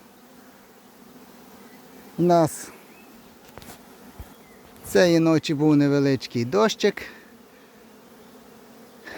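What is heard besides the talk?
honeybees buzzing at an apiary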